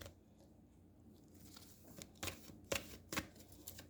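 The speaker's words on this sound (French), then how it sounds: "on va aller piger des petits cartons" Small cards shuffled and drawn by hand during a cartomancy reading, heard as a few soft, close rustling flicks and snaps in the second half of an otherwise quiet room.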